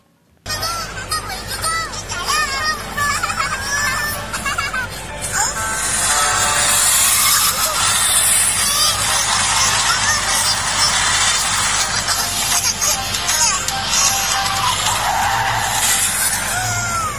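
Upin Ipin cartoon audio from YouTube playing through the small speaker of an Advan Nasa Plus phone, a continuous busy, thin and loud stream of cartoon voices, music and effects that holds for the whole stretch.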